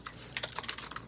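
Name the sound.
fast typing on a computer keyboard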